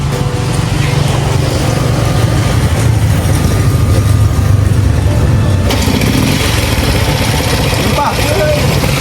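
Engine running steadily with a continuous low rumble and mechanical clatter, fairly loud and close, while people talk nearby.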